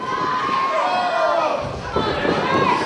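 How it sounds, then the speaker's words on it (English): A crowd of wrestling fans chants loudly and continuously at a live professional wrestling event, with a rising, rhythmic roar of voices. "I believe they're chanting for the Johnnies"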